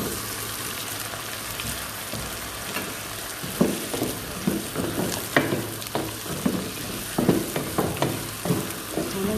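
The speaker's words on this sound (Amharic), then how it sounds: "አሁን ለተወሰነ ሰዓት አብረን እንጠብሰዋለን።" Potatoes fry in a pot for creamy potato soup, a dense steady sizzle close up, punctuated by repeated scraping and knocking strokes of stirring in the second half, with no talking.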